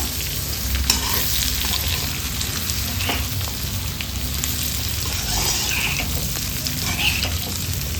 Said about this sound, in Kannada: ಒಂದು ಈರುಳ್ಳಿನ ಕೂಡ ಸೇಮ್ ಒಂದು ವಿಧಾನದಲ್ಲಿ ಕಟ್ ಮಾಡಿ ಹಾಕೊಳ್ಳೋಣ ಚಂದ ಮಿಕ್ಸ್ ಮಾಡ್ಕೊಳ್ಳೋಣ